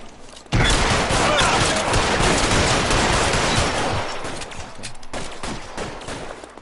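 Loud gunfire bursts in L.A. Noire during a shootout with a shotgun-armed suspect, a dense volley of rapid overlapping shots starting abruptly and continuing throughout, slightly easing toward the end.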